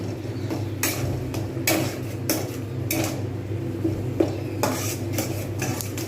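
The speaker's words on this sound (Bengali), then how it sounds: "মশলাগুলো আমি কিন্তু এইরকমভাবে কষবো যতক্ষণ পর্যন্ত না এটা সুন্দরভাবে তেল ছেড়ে দিচ্ছে" Spice masala stirred and sautéed in a pan with a metal spatula, giving repeated scraping clanks every second or so over a steady low cooking hum, close and fairly loud with no talk.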